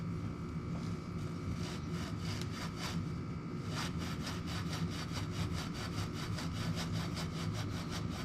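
A Scotch-Brite pad scrubs rust off a Honda CT90 fork tube in fast, rhythmic strokes, a dry, close, faint rasping that pulses steadily with no talking.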